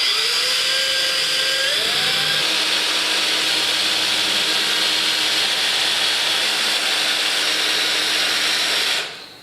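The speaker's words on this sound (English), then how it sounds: "I'm going to recess into the bottom of the shelf using a Forstner bit so that the bottom of the hole is nice and flat" A drill spins a Forstner bit into the underside of a wooden shelf, boring flat-bottomed recesses; a loud, steady whirring grind with the motor pitch shifting as it bites, then cutting off abruptly at the end.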